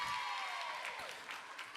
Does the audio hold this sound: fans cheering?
yes